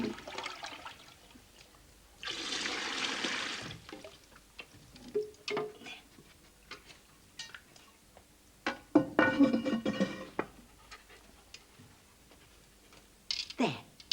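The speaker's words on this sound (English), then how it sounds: "The water goes down the pipe, into the loo, and flushes it out." A toilet flushing in a kids' programme, a broad rushing burst of water for about a second and a half, then gurgling and trickling amid scattered clicks and voices talking nearby.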